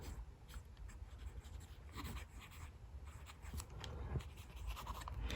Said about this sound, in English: I can feel how soft this nib is just sort of writing